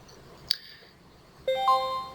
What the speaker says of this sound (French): c'est une alarme justement qui fait nous prévenir qu'on est proche du stop de l'euro CAD